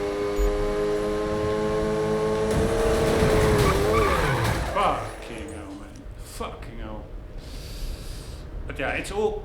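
Car drifting in Need for Speed 2015 street racing, with a loud engine drone and a sliding tire squeal rising midway, then fading into lower road noise and a brief second screech near the end.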